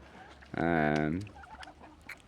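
A single Old Polish turkey in a poultry shed gives one short, rising harmonic call lasting under a second, close and clear against quiet shed background noise.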